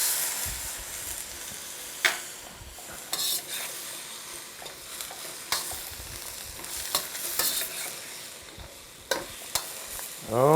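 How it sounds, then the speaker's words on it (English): Soy sauce hits a hot pan of stir fry, setting off a steady close sizzle and frying hiss with scattered sharp clinks and scrapes of stirring utensils. "I'm going to add a couple of tablespoons of soy to this."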